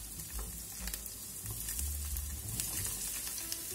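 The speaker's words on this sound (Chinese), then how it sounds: "剩下的油直接用它炒瓜和菇。" Squash and mushrooms stir-fry in leftover shrimp oil in a wok, giving a steady close sizzle broken by occasional stirring scrapes and pops.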